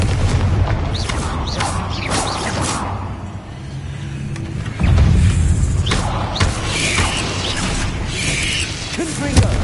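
A fire spell blast cast in the Hogwarts Legacy video game, heard as a loud booming burst and whoosh midway through continuous game sound effects with further impacts before and after.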